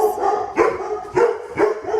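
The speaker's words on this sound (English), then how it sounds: "Excuse the dogs in the background." Dogs bark in the background, about four sharp barks in a steady rhythm, moderately loud, with no talking over them.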